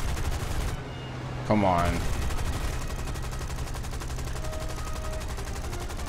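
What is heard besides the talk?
aircraft machine guns firing in a video game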